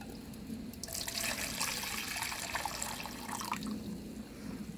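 Hot water pours from a solar sun kettle, a faint, close splashing stream that starts about a second in and runs for a couple of seconds before trailing off.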